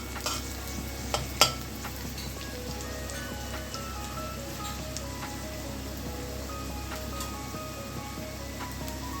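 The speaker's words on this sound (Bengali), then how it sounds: "মশলাগুলো সবজির সঙ্গে ভালো করে কষে নিতে হবে।" Vegetables being stir-fried with dry chili powder, turmeric and cumin in a pan for a pui shak and pumpkin chochori; a steady, soft sizzle runs throughout with a couple of sharp utensil clinks near the start, no talking.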